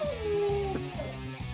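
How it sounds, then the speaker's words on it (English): A pet dog howls indoors with a long, falling, wavering cry that is clear but moderately faint, set under the steady sound of a video game playing in the background. "My dog's howling."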